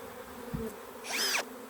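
Bees buzz around a large hive, a close, continuous drone with one bee swelling louder and nearer for a moment before fading back.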